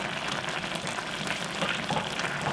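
Saury and kimchi simmering in a pan, a soft steady bubbling and sizzling close by, quiet and continuous with no voices.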